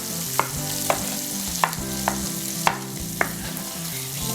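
Sausage and bacon frying in bacon grease over medium-high heat, a steady close sizzle with several sharp pops and spatters spaced through it, no voices.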